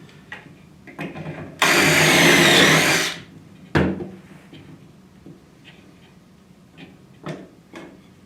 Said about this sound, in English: all our pieces are drilled